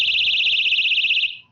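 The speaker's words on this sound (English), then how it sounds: "Well, Jennifer, this right here is a personal safety alarm." Personal safety alarm pulled to activate, giving a loud, shrill, warbling high-pitched electronic siren that holds steady for over a second and then cuts off abruptly.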